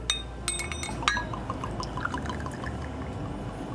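A lychee martini milk punch batch poured from a bottle into a glass, a steady close liquid stream with a few light clinks of glass near the start.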